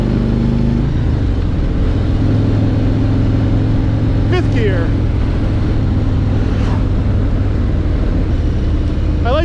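A 2021 Harley-Davidson Road Glide Limited with a Milwaukee-Eight engine cruises in fifth gear, giving a loud, steady low engine rumble with wind noise and a few brief chirps, no talking.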